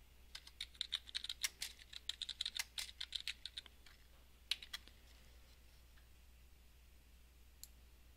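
Quick bursts of typing on a computer keyboard, close and fairly quiet, with a dense run of key clicks that slows to a few scattered taps.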